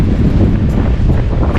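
Strong wind roars through a street in San José, Costa Rica, buffeting the microphone in a loud, close, continuous low rumble.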